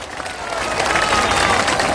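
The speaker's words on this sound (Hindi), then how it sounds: "जोर से बजाइए ताली" Large rally crowd in Bihar applauding with dense, sustained clapping that swells and holds loud, mixed with some cheering voices.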